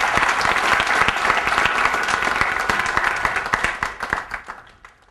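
An audience claps in thanks at a 2007 Jain Sutras talk, a dense sustained burst of many hands that stays loud for several seconds, then thins into scattered individual claps and fades out.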